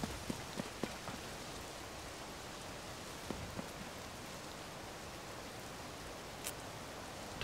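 Steady, even hiss of rain falling in The Legend of Zelda: Tears of the Kingdom, with a few soft drip-like ticks scattered through it. It stays constant and fairly quiet throughout, with no talking.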